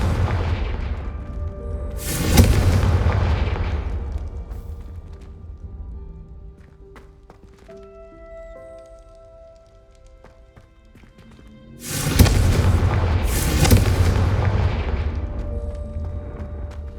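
Confringo fire-spell explosions in the video game Hogwarts Legacy: two loud booming blasts about ten seconds apart, each with a rumbling tail, and quieter game ambience and music between them.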